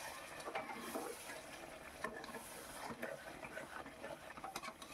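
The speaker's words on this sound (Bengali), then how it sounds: "অল্প গরম জল দিয়ে আবার আমি মশলাটাকে ভালো করে একটু কষিয়ে নিচ্ছি।" Mutton curry masala is stirred and sautéed with a little hot water in a pressure cooker, giving a soft sizzle with a spoon scraping and knocking against the pot in a steady rhythm.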